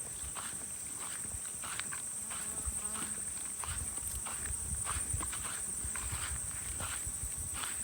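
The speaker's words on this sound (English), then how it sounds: "They're pretty quiet, these horses." A herd of wild horses moving about quietly outdoors, soft scattered hoof thuds and footsteps close by, with a steady high insect drone over the whole scene.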